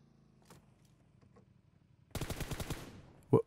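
Rapid burst of automatic gunfire in the mobile battle-royale game PUBG Mobile, a dense string of loud shots lasting about a second after a quiet stretch, followed by one sharp single report.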